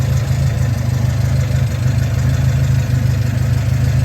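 A 1973 Alfa Romeo GTV idles steadily after a cold start, a close, loud, even engine rumble with no voices over it.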